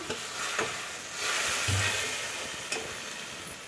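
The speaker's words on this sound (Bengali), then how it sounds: "লাল লঙ্কা এখন আমি এটাকে ভেজে নিচ্ছি একটু কষিয়ে নিচ্ছি" Red chili powder and spices fry in oil with a steady, close sizzle as a spoon stirs through them, making occasional scraping knocks; no one speaks.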